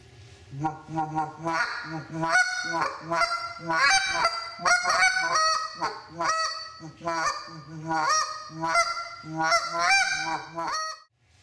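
A goose call blown in rapid clucks and double and triple honks, imitating a flock of geese in loud, rhythmic bursts.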